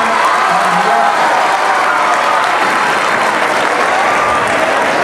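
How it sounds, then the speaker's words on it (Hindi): Sustained applause from a crowd at a Jawahar Navodaya Vidyalaya Foundation Day celebration, loud and steady throughout, with a few faint cheers mixed in. "उनके सम्मान में आपने ताली बजाएं"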